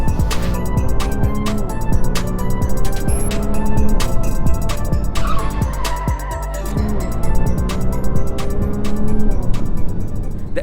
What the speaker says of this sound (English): we'll be driving the 296 GTB with the Asseto Fiorano package